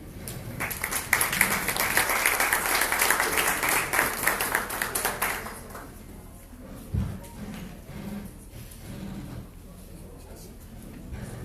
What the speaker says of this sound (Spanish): Vamos a recibir con un aplauso al señor coordinador de la Misión de Apoyo al Registro Nacional de las Personas, el señor Demetrio Lasaña.